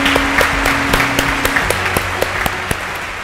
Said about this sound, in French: Une grande main d'applaudissements.